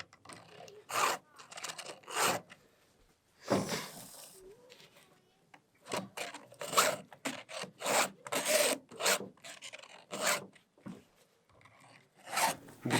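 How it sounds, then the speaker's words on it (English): A chainsaw chain being sharpened by hand with a file, a series of close, rasping strokes in uneven bursts with brief pauses between, and no talking. "just sharpening a chainsaw"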